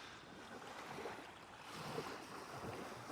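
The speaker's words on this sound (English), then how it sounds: "listening to the waves slap on the beach." Waves slap on a beach in Alaska, a steady, moderately faint wash of surf with wind noise and no clear individual breaks, heard continuously without talk.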